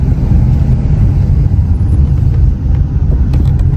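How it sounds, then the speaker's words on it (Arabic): Dodge Challenger engine laboring in first gear on a steep southern mountain road in Rijal Alma, a steady loud low rumble with constant drone and no talk throughout. "الان السياره محشوره زي ما انتم سامعين صوتها كيف"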